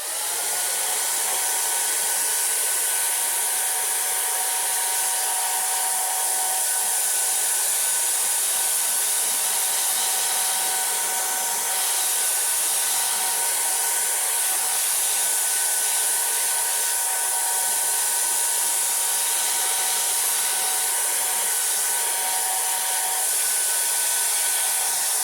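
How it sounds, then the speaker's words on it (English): A hair dryer blows steadily and loudly at close range, drying the edges of a wet watercolor galaxy painting, a continuous whooshing hum with faint tonal whine running unbroken for the whole stretch, no voices. "I'll take the hair dryer and I'll dry the edges."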